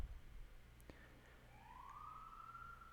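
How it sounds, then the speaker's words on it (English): Police car siren in a tactical shooter game, rising into a thin, steady wail that starts faintly and grows a little louder, with a brief click and low background hum before it. "That is a police car."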